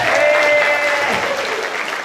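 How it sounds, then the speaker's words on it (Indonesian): Students at a school orientation event break into loud, close applause, a thick wash of clapping that holds steady and then eases slightly over about two seconds. "Tepuk tangan dulu dong."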